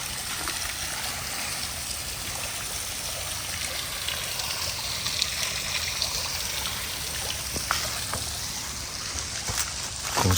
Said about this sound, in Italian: C'è questa fontana pazzesca, bellissima